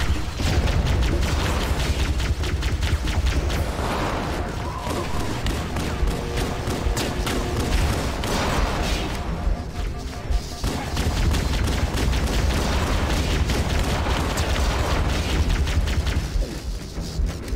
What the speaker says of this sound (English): that guy's shooting rockets at me on the side